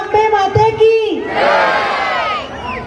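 A crowd shouts together in praise of Goddess Ambe at a Navratri gathering, a loud, massed roar of voices swelling after a leader's call and holding for over a second.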